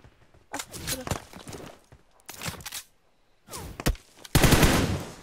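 Automatic rifle bursts spray in a PUBG Mobile match, several loud rapid-fire volleys separated by short pauses, the last burst heaviest and most sustained, with a voice talking between them.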